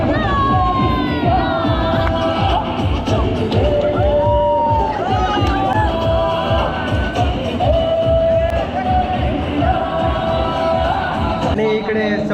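Supporters at a local cricket league match keep up continuous loud cheering, shouting and chanting close by, with voices overlapping throughout.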